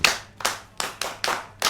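Audience clapping for a speaker at a children's event: five or six short bursts of applause about 0.4 seconds apart, crisp and fairly close, with no voices.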